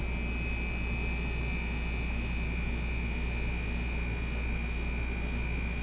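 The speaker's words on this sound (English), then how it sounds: "Sounds like the compressor's working." An air compressor runs steadily in a warehouse, a constant low drone with a sustained tonal whine, moderately loud and unbroken.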